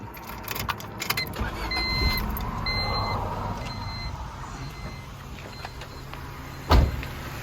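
A car engine runs with the hood open while preparing for a fuel-system cleaner treatment, giving a steady low idle rumble. Faint electronic chime tones sound over it, and a sharp clunk comes near the end.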